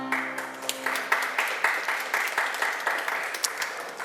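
Eighth-grade graduates applaud their parents and grandparents at a school graduation ceremony, a steady wash of many hands clapping in a large room. A held musical tone fades out under the clapping near the start.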